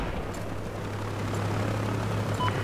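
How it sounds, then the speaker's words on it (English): A helicopter in Battlefield 4 flies high, its low, pulsing rotor drone humming steadily throughout, sounding distant and muffled with faint background noise. "I spotted an enemy helicopter!"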